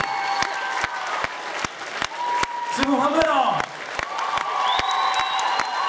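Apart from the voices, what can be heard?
audience applause and cheering at dance show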